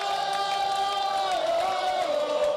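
Fans of all ages gathered in Piazza Cima, Treviso, chanting and cheering together as a sustained, distant crowd roar with rising and falling sung tones, no single voice standing out.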